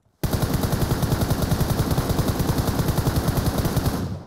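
Sustained automatic gunfire in PUBG Mobile as a player shoots at a vehicle, a fast, steady stream of loud rounds lasting about four seconds with no talk.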